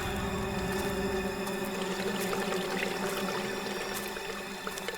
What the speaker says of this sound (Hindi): ये पानी की आवाज आ रही है, लगता है तालाब कहीं आसपास में ही है।